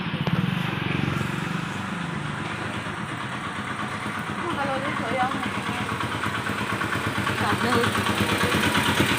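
A motorcycle engine idles and rumbles nearby with a steady throbbing pulse, while people talk over it.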